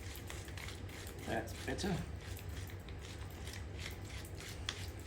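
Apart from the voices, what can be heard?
pepper grinder grinding pepper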